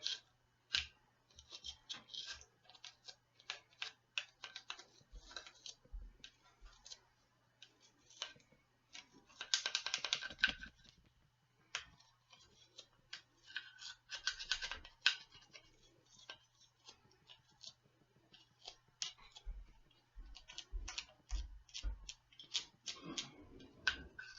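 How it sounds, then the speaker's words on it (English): A toothbrush scrubbing inside the magazine well of an Anschutz rifle during a deep clean, with rapid dry bristle scratches and ticks coming in uneven bursts, close and quiet, with no voices. "We're also going to scrub down in through the magazine well."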